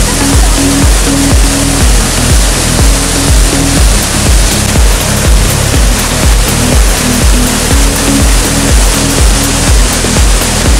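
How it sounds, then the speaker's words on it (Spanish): The Chuveje waterfall in the Sierra Gorda of Querétaro, swollen by rain, fills the air with loud, constant rushing noise, broken by rhythmic low thumps. "ya llegamos ahora sí a la cascada"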